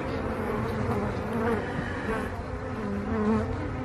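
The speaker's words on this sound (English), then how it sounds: "Bees breaking out" A dense, steady buzzing of many honeybees at an apiary fills the air, droning continuously at close range with a few louder swells.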